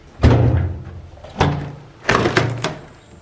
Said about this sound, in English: I can open doors.